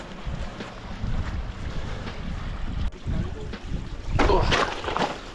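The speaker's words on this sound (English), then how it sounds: "you can hear the water running" Steady outdoor rush of a running stream with wind buffeting, a brief louder splashing swell near the end.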